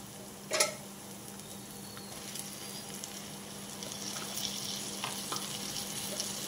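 Chopped tomatoes go into onion masala frying in oil for a taro curry. A quiet, steady sizzle follows a short sharp clatter near the start, with soft stirring scrapes later.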